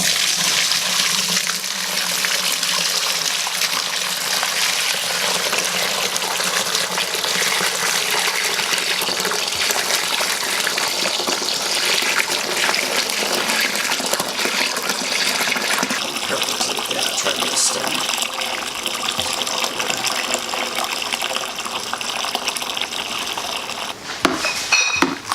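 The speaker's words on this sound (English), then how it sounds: "But first, let's pour this into the fermenter." Homebrewed hazy NEIPA beer pouring into a fermenter, a steady loud gushing splash of liquid filling the vessel for over twenty seconds, ending with a few clunks.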